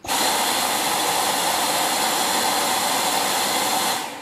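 A Dyson cordless vacuum cleaner runs on low power, giving a steady, loud whirring hiss that holds evenly for about four seconds and then cuts off, with no talking.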